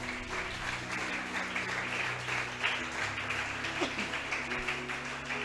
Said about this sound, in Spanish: ¿Cuántos le aplauden a Dios por esto, hermanos?